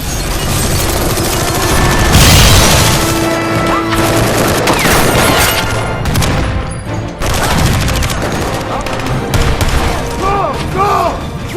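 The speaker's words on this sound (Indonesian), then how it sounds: "Church dan Mauser langsung melepaskan tembakan ke arah pasukan villain" Loud action-movie battle at an airport, with bursts of gunfire, booms and crashes layered over a dense soundtrack, and a voice talking in places.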